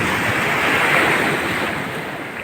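Ocean waves wash steadily onto Om Beach in Gokarna, a continuous broad surf roar with wind rushing across the microphone, fairly loud and even throughout with no voices.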